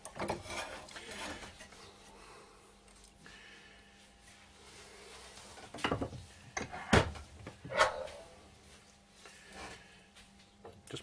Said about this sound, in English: So now I'll start digging out using my spindle gouge and scraper.